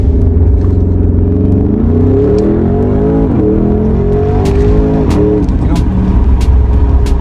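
A Porsche Cayenne GTS Coupé, 339 kW and 620 Nm, launches hard, its engine note climbing through gears with rising tonal sweeps and shifts, a person speaking over the drive.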